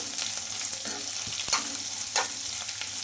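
Finely chopped onions, carrots and green chillies fry in a pan while being stirred, giving a steady close sizzle broken by scraping and clinking of a spoon against the pan.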